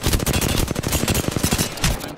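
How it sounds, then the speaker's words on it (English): Dense, continuous automatic gunfire from a close-range firefight in the battle-royale game Apex Legends, a loud rapid rattle of overlapping shots filling the whole brief stretch without any talk. "I'm taking fire."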